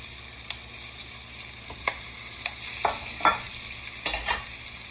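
Chili toasts in brown butter beside corn on the cob, giving a soft steady sizzle broken by a scattering of light pops and crackles.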